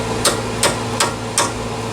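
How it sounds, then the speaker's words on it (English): A big hammer strikes four evenly spaced, sharp metallic blows on a 1998 Ford F150 engine during intake gasket replacement, each hit close and loud above a low steady hum. "You don't have to use a hammer this big."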